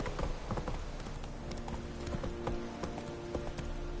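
The horse Roach gallops in The Witcher 3, with a rapid, steady clatter of hooves close by, continuous under faint game ambience.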